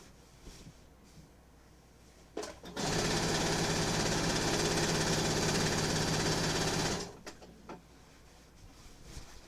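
A sewing machine stitches binding onto a queen-size quilt in one steady, loud run of about four seconds, with quieter handling noise before and after.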